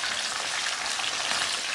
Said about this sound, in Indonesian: ini mau kita goreng terlebih dahulu buncisnya